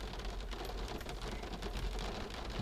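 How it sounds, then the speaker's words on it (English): Steady rain drumming on a parked car, a dense, even patter heard from inside, constant and moderately loud throughout with no pauses. "it's raining"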